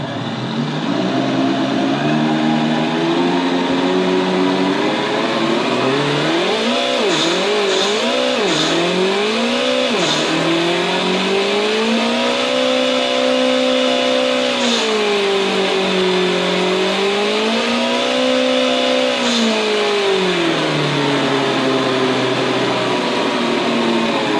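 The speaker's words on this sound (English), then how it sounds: "So now it's on idle, I'll just throttle it up." An RC car sound module plays an engine at a steady idle, then revs it up and down in several rising and falling throttle sweeps, loud and continuous throughout.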